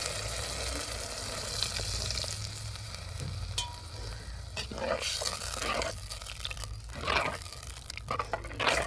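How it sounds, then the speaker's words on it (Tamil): Water poured into a pan of frying fish curry masala made with kara fish, a steady hiss and sizzle with a few stirring scrapes and bursts of crackle near the end. "அவி கறி தேவையான தண்ணி ஊற்றிக்கிறோங்க."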